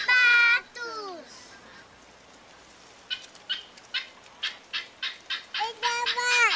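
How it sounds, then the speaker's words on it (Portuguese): Cartoon ducks in a Teletubbies episode let out a brisk series of short, nasal quacks in quick succession, preceded by a few longer, drawn-out honking calls. "Olha os patos!"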